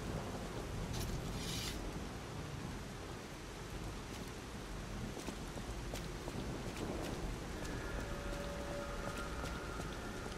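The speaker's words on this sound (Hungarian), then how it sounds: "Esős éjszaka." Rain falling on a dark rainy night in the video game Lies of P, a steady wash of hiss with faint rumbling underneath, no voices.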